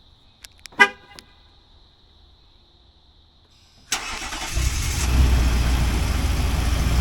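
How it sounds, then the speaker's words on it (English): 2019 Nissan Titan truck started by remote, with a few short horn chirps, then a pause and the engine cranking and catching into a loud, steady idle. "I'm gonna use the remote to do the remote start, and let's see what happens."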